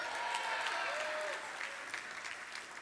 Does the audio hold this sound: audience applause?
yes